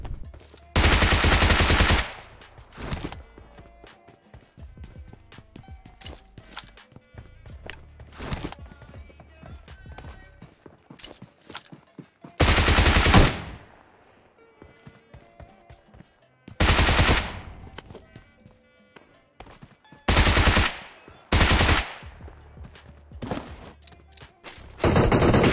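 Bursts of automatic gunfire in PUBG Mobile, several loud sharp volleys separated by quieter stretches of footsteps and movement, some bursts close and heavy, others shorter and more distant.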